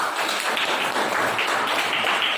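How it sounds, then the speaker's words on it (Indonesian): A group bursts into steady, close applause, a brief dense patter of many hands clapping with no talk over it. "Boleh tepuk tangan dulu"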